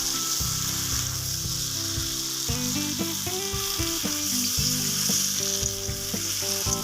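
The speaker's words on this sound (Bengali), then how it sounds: "তো এবার যে ভেজে রাখা আলু আর পুঁইশাক ছিল সেগুলো আমি এর মধ্যে এবার দিয়ে দিয়েছি, দিয়ে আবার সুন্দর করে কষাই করে নেব।" Meat being stir-fried in a pan with pre-fried potatoes and Malabar spinach, a steady close sizzle with scraping stirring strokes throughout and no talk.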